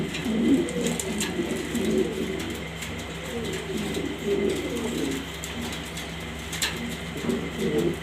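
Several pigeons at a Bangladeshi pigeon exhibition, including top-collar grizzle and black pairs, coo in low repeated bursts throughout, with faint rumbling and passing noise in the background.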